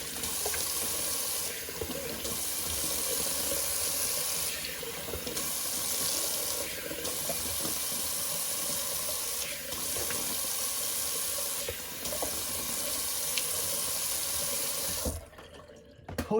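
A kitchen or bathroom tap runs steadily for a cold-water rinse of soap after shaving, a continuous close splashing hiss with small bumps and clinks as hands move under the stream.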